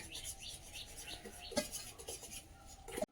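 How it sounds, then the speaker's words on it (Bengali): A metal pot lid is lifted while potatoes and fish cook: two faint, brief metallic clinks over a quiet, soft scraping background. "ঢাকনাটা খুলে দেখে নেবো"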